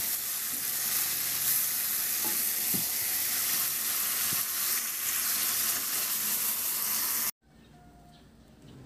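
Marinated chicken liver pan-frying in a pan with sauce, a steady dense sizzle with occasional stirring clinks, close and loud, cutting to quiet at the end.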